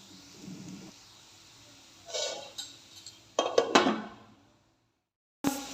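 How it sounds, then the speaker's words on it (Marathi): A lid is set on a pan of cooking potato bhaji, with several metallic clinks and scrapes of cookware close by, then a short silence before a final clank. "चला ह्याच्यावर झाकण ठेवूया मस्त आणि शिजवून घेऊया"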